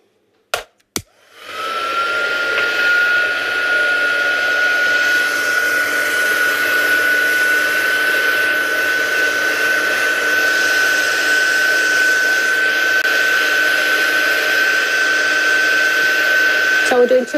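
A handheld heat tool starts with a couple of clicks, then blows a steady, loud whirring hiss close by for about sixteen seconds while drying ink on embossed craft cards.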